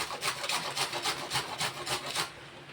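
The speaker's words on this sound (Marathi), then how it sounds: "आपण आता खोबरं किसून घेऊया मोदकासाठी" Coconut being grated for modak filling gives a steady rhythmic scraping, about ten even strokes in a row, close and moderately loud, with no talk.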